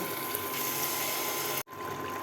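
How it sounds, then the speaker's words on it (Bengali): Water poured into a pan of spiced fish curry, a steady close rushing pour that runs evenly for about a second and a half, then cuts off abruptly, briefly resuming more faintly. "এখন জল দিয়ে দিব"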